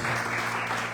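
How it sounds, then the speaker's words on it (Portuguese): A church congregation at a prophetic night service claps together, a brief steady burst of applause heard at moderate distance. "Aplauda o Senhor"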